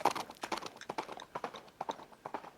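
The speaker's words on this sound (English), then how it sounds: "they galloped off with a neigh" Rhythmic clip-clop of a horse's hooves galloping at a steady pace, close and fairly loud, with no talk over it.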